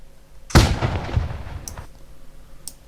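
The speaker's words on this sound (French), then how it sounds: "Tiens, un feu d'artifice." A single loud burst of a fireworks sound effect booms up close, followed by a crackling decay and a couple of faint distant pops.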